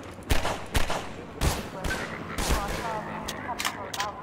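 Video game gunfire in Half-Life 2 comes as sharp, loud shots in irregular bursts, some close together, with echoing tails between them.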